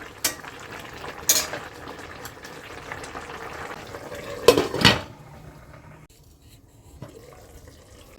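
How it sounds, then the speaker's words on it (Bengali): Slit green chillies being stirred into a frying chicken curry in a pan, with sharp utensil clinks and scraping at a few points over a low, steady background; no talking. "আমি এখন দিয়ে দেব কয়েকটা চেরা কাঁচা লঙ্কা একটু নাড়াচাড়া দিয়ে আবার ঢাকা দিয়ে দেবো"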